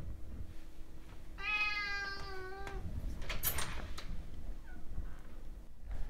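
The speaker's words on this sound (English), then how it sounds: "My cat has also learned that if it meows long enough, someone will open the door for it." A house cat gives one drawn-out meow, clear and nearby, followed by faint rustling in a quiet room.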